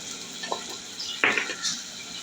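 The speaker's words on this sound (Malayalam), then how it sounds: "അതിൻ്റെ നന്നായിട്ട് ഇളക്കി കൊടുക്കുക മഞ്ഞപ്പൊടി എല്ലാത്തിലേക്കും ഒന്ന് പറ്റത്തക്ക രീതിയിൽ നന്നായിട്ട് ഇളക്കിയിട്ട് മൂപ്പിച്ചു കൊടുക്കുക" Turmeric powder is stirred and fried in a hot pan: a spoon scrapes and clinks in a few short strokes over a faint, steady sizzle.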